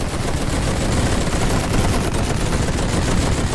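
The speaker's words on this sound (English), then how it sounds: "so it's about 2 machine guns firing" Two machine guns fire in The Great War video game, a continuous loud rattle of rapid shots that fills the whole stretch with no talking.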